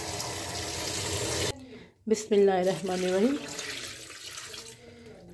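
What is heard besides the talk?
water poured into a large cooking pot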